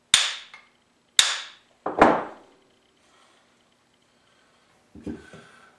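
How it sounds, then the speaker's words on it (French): A brass-tipped hammer taps a drill chuck onto its arbor: three sharp, close metallic knocks about a second apart, then a pause and a lighter final tap, with no talk. "Pour éviter d'endommager l'outil, utilisez le bout en laiton du marteau."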